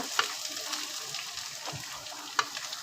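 Onion frying in ginger-garlic paste in a home kitchen pan, a steady close sizzle with a few sharp crackles and spits, with no talking.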